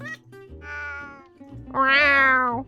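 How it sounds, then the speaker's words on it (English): An odd cat noise from a video game sounds close and clear: a few short, tonal meows and trills ending in a louder, drawn-out wail. "I haven't heard that noise on a cat before."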